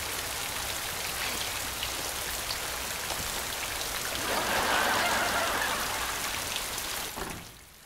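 Heavy rain and wind roar as a dense, steady wash that swells briefly, then drops away near the end, with no talk over it.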